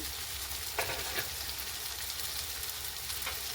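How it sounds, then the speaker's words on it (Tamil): Brinjal (eggplant) pieces sauté in hot oil with a steady, close sizzle and a few brief stirring scrapes, without talk. "இந்த எண்ணெயிலேயே அப்படியே வதங்கி வரட்டும்"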